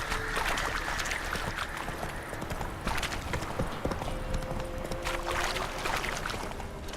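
Roach, a horse in The Witcher 3, gallops in a steady rapid clip-clop of hooves, loud and close, over constant outdoor ambience with a few brief tonal effects.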